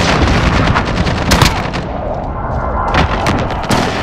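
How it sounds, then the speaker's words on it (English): Precision airstrike explosions in Call of Duty: Modern Warfare during a Domination match on the Grazna Raid map, a loud continuous barrage of blasts and gunfire-like cracks with several sharp bursts rising over the rumble. "Enemy precision airstrike"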